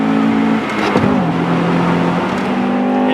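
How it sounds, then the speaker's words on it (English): A 2001 Acura Integra Type-R engine revving hard up into VTEC, loud and close, with a rising intake howl, a brief dip around a gear change, then a sustained high-pitched wail. "whenever you want to hear that motor sing, dip right into the VTEC"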